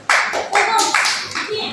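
An audience at a gathering for people with disabilities claps in short bursts, a close, loud patter of many hands that rises and fades several times within a couple of seconds.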